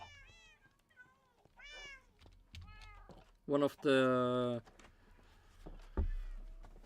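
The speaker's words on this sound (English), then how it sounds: "Shut up, cats." Several cats meow repeatedly close by, one long loud wailing call standing out, interleaved with a person talking quietly over soft clicks.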